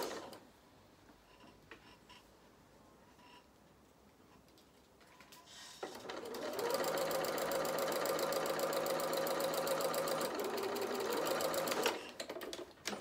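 A sewing machine stitches a muzzle onto a teddy bear's head with a 1 cm seam allowance, its steady rapid whirr starting after a quiet lead-in and running loud for about six seconds before stopping.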